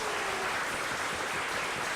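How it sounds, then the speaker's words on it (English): Applause at a Half Moon Bay city council meeting for the graduating class of 2017; a dense, even wash of clapping from a modest room crowd holds steady, with no voices over it. "How about a big round of applause for the net graduating class of 2017?"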